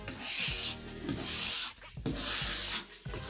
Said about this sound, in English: brush off the excess wax with our bronze brush